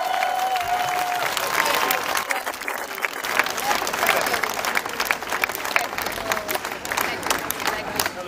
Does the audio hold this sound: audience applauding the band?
yes